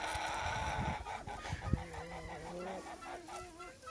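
Crested hens squabbling over thrown food, with a flurry of clucks and honking squawks up close, rising and trailing off in quick bursts.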